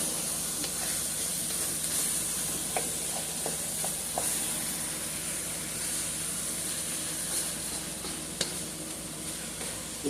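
Ground meat cooking on high heat in a pan, a steady hissing sizzle throughout with occasional small pops and clicks, no talking.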